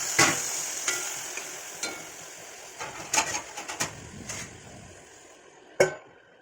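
Tomatoes with a little salt cook in a pan for tomato chutney, giving scattered utensil clinks and scraping stirs over a soft, low sizzle, with one sharper knock near the end.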